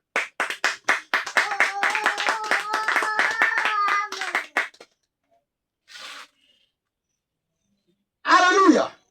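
A church congregation claps together to acclaim the Lord, with quick, rhythmic, fairly close claps for about five seconds. Then comes a near-silent pause with a brief rustle, and a short voice near the end.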